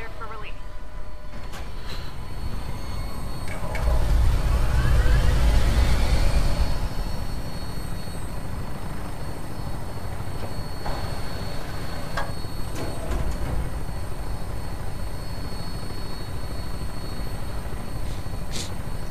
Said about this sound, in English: I see these kind of like cool moments when you're flying in the vertibird.